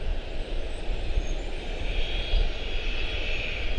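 A jet airliner taxiing at Charlotte-Douglas International Airport gives a continuous loud engine roar with a high whine on top, steady throughout and fairly close.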